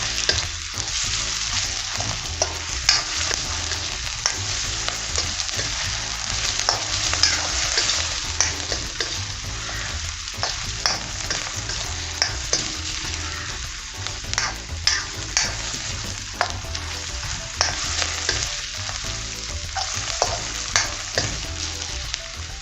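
Ingredients sautéing in a pan for fast-food-style chilli chicken gravy give a steady, close sizzle and fry, with repeated scraping stir strokes at an irregular rhythm throughout and no talking.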